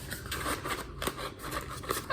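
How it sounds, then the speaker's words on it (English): Scissors snip steadily around a paper circle for a pigeon mask, a string of short crisp cuts with irregular rhythm, close and fairly quiet. "I'm gonna cut all the way around the circle with the scissors just inside of that line."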